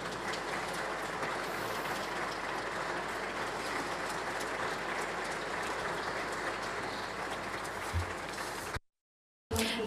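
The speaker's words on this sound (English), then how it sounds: "Another applause." A steady, dense wash of audience applause fills a hall at the DIGI Awards 2022 ceremony, holding at an even level before cutting off abruptly near the end.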